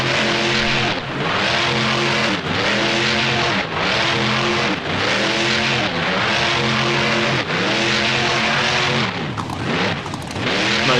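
A monster truck engine in the BeamNG driving game roars loud and close during a donut spin, revving up and down in repeated surging waves with no talk over it.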